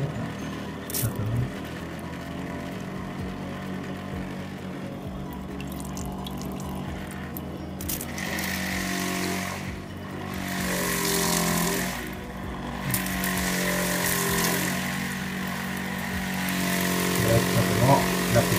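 A Trixie Reptile Rain misting pump in a tropical gecko terrarium runs at higher power, a steady close mechanical hum with spraying water that swells louder partway through.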